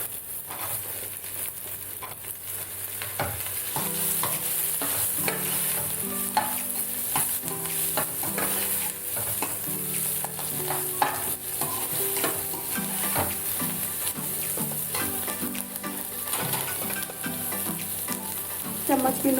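Bell peppers stir-fry with masala in a pan for soya chilli manchurian, a steady close sizzle broken by repeated scraping and clattering strokes of the stirring spoon.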